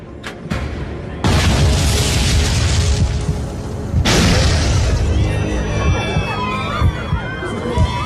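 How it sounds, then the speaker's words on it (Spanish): Two explosions aboard a flying airliner, two heavy booming blasts a few seconds apart followed by a rumbling roar and shrill whining tones as the cabin shakes. "Dos explosiones sacudían el avión."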